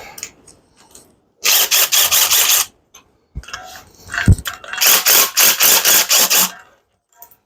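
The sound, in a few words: impact wrench driving out engine head bolts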